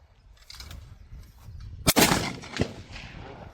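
A single loud shotgun blast at a clay target cracks out after a quiet stretch, followed by a sharp echo and a short reverberating tail.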